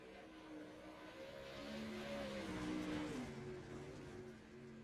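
Pro Late Model race cars circling a short oval track on a Sunday night, engines droning and revving from a distance, swelling and fading as they pass, without talk.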